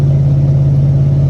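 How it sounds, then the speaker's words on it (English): A truck engine with its exhaust broken off rumbles steadily at idle, a loud, deep, unmuffled drone with a low clattering pulse and no talking. "you can hear my exhaust"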